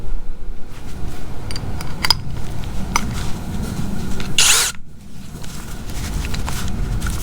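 A Skil PWRCore 20V brushless drill bores with a 1-inch self-feeding spade bit, a loud, steady, close motor drone and grinding that dips briefly near the end before carrying on.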